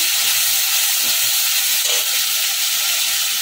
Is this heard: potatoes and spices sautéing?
yes